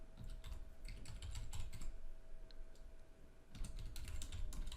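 Fingers tap steadily on a computer keyboard while a bash script is entered, a quiet continuous run of close key clicks with a brief lull in the middle before the typing picks up again.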